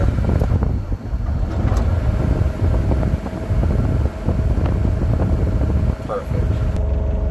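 The engine of an ASV PT100 compact track skid steer runs steadily after starting, a loud continuous rumbling drone that lasts throughout, with some wind buffeting the microphone.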